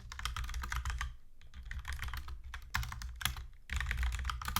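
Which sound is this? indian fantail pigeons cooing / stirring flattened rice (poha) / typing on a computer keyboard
typing on a computer keyboard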